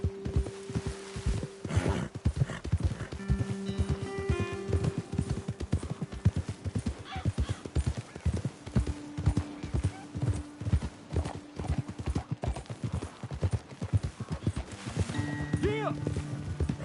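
Rapid, steady hoofbeats drum through the whole stretch like a galloping horse in the video game Red Dead Redemption 2, with a few neighs and whinnies and occasional voices over the top.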